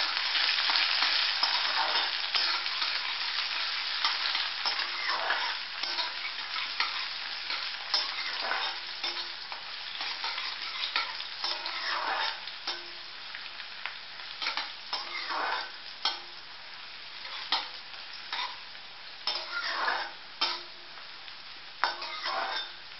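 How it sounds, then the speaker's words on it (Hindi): Chopped onion fries in a pan with whole spices, green and black cardamom, cloves and bay leaf, giving a steady close sizzle broken by repeated scraping stirs that become sharper and more spaced toward the end. "तो ये जो हमने एक छोटी सी प्याज काट के रखी थी इसको भून लेंगे।"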